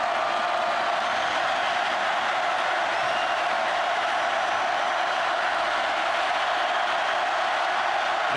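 A stadium crowd at an LSU home football game against Auburn sends up a broad, continuous roar, loud and steady throughout, with no single voice or clap standing out from the mass of noise.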